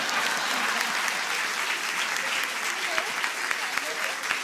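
Audience applause fills the room at a comedy roast anniversary show, a dense, even wash of clapping with scattered sharper claps standing out, steady for the whole stretch.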